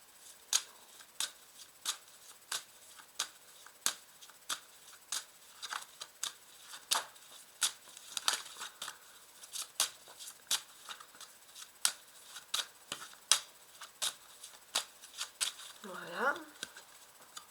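Oracle cards (the Oracle du message des lumières deck) shuffled by hand in a quiet room, giving a long series of crisp, evenly spaced riffling snaps close up, with a short vocal sound near the end.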